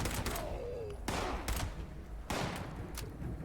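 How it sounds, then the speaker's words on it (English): Enemy gunfire aimed at the player in Fallout 76 video game, a handful of sharp, fairly distant shots spaced across a few seconds over low ambient game noise, with a ricochet-like whine early on. "Stop shooting me."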